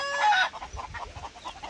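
A silkie chicken gives one loud, drawn-out squawk, then a string of soft, rhythmic clucks close by.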